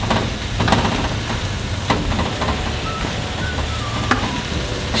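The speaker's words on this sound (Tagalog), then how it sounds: "So, igisa lang natin." Banana heart being sautéed in a pan for kare kare, with a steady broadband sizzle throughout and a few brief sharper crackles and clinks, close and fairly loud, no talking.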